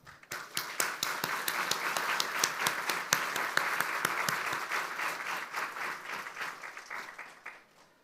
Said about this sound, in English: Let's show them our appreciation with a heartfelt round of applause.